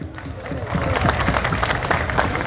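A crowd claps and cheers at a student event in Kota, India. The applause is dense and steady, with crisp hand claps rising in strength after the first half second and holding on.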